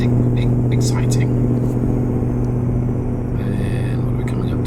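A V8 Mack R truck engine in American Truck Simulator drones steadily at low revs on a snowy drive, a deep continuous rumble under someone talking.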